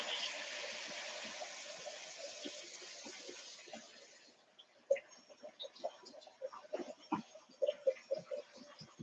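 Cold tap water running steadily into a kitchen sink, a hissing stream for several seconds that then gives way to irregular splashes and clatter as things are rinsed under it.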